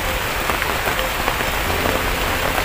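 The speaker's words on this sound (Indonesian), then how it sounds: "Ini hujan," Steady rain pours and patters on surfaces alongside gusting wind in a rural area where aren palm sap is tapped, a dense continuous hiss filling the whole stretch with no talk.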